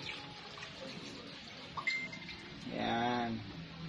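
Water splashes into a cooking pot for Visayan-style humba, right after pineapple juice is added, with a short pouring gush near the end after some faint clinks.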